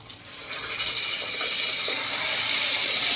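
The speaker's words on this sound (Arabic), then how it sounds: "نحط الميه بتاعتنا المغليه." Boiled water pours steadily and continuously into a pot of basmati rice, a full rushing splash that builds slightly and holds throughout.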